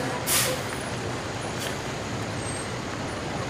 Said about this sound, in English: Bennington ladder truck coming through.